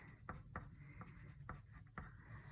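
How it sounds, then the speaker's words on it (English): A pencil scratching across paper as a name is written, with a steady soft scrape broken by several brief sharper strokes, close and quiet with no talking. "I pick up my pencil and I write my"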